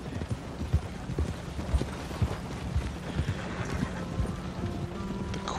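Hooves of a pair of big wagon horses clip-clop in Red Dead Redemption 2, a close, steady rhythm of hoof falls over a low rumble of rolling wheels.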